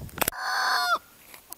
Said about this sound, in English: And these are our free-range orchard chickens.